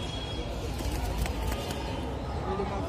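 Pigeons coo and flutter at a busy pigeon market in Kaptan Bazar, Bangladesh, a soft continuous murmur of birds under steady crowd noise.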